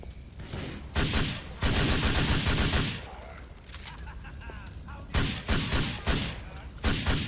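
Gunfire in the Grand Theft Auto IV video game: loud bursts of rapid automatic shots in two main volleys, then a quieter stretch with scattered reports before several more sharp, punchy bursts.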